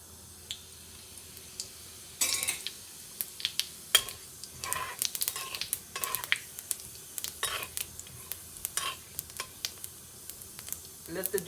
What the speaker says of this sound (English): So as soon as the oil is hot, you put the jeera first.